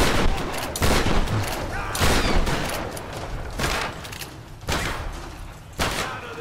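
Repeated gunfire from a shooter in the PC game Tomb Raider, with heavy shots booming out every second or so in a steady rhythm over a loud game soundscape.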